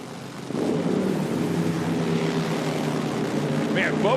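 Harley drag motorcycles launching side by side down a drag strip at an IHRA event, a loud, steady engine roar that holds for several seconds with no pause.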